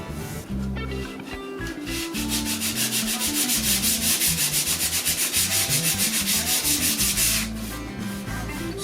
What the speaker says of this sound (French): Je vais légèrement les grainer au grain 240 partout